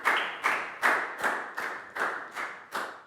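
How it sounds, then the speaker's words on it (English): Classroom applause for Year 4 students during a health lesson: a short run of about eight evenly spaced, fairly loud claps, close and steady, with no talking. "Big round of applause for everybody"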